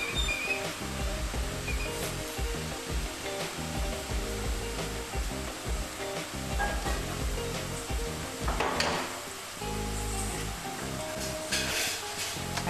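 Sev (omapodi) dough frying in hot oil, a steady dense sizzle and hiss that runs without a break, with a few brief clinks and a faint whistle-like tone over it.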